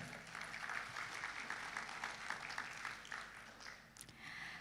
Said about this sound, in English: Please, one more time, give applause to all of you.